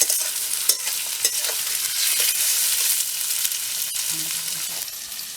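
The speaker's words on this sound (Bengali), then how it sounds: "এটা বেরেস্তা করার জন্য পেঁয়াজটাকে লাল লাল করে একটু ভেজে নেবো" Onions frying in hot oil to make beresta for chicken biryani, a bright steady sizzle with brisk stirring scrapes and a few clinks, close and without voices.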